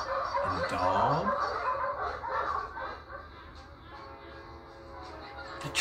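A train rumbles past a residential neighborhood, fairly distant and steady, blending with outdoor backyard ambience and bird calls.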